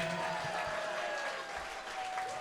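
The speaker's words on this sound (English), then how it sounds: "can we get a round of applause for Austin Autry?" A wedding crowd applauds steadily after a speech, a dense wash of clapping from many hands with no pauses, heard from a short distance.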